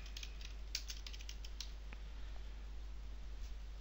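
Light keystrokes on a computer keyboard come in a short burst of quick taps, faint over a low steady hum, then thin out to a few scattered clicks.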